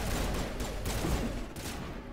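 Gunfire from the Mass Effect video game, a rapid burst of shots in quick succession, loud and dense with short gaps near the end, and no talking over it.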